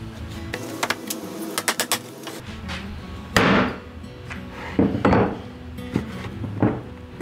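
A wooden wedge is tapped into a homemade bar clamp in a workshop, giving several sharp knocks at irregular intervals, some clustered, with a brief louder hit near the middle, fairly close and with no talking.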